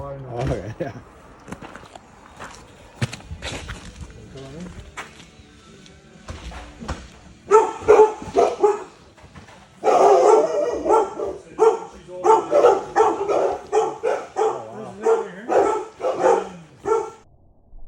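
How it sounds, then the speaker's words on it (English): Several dogs bark and yip in a kennel building in Ontario, with bursts growing louder and denser partway through. Speech and footsteps mix in among the barking. "I've got dogs in here, they're gonna make a lot of noise."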